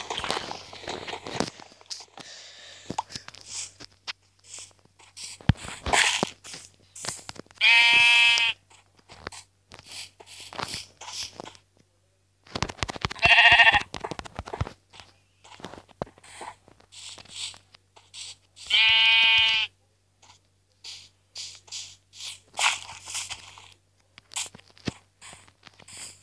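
Sheep in Minecraft bleat in three short harmonic calls spaced several seconds apart, over crunchy footsteps and a low steady hum.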